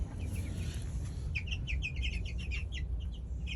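Young gamefowl chicks, one to two months old, chirp in a pen: a quick cluster of high peeping calls over low steady background rumble, moderately near.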